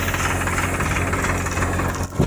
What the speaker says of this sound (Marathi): ते ट्रॅक्टरचं मळणी यंत्र आहे मोठं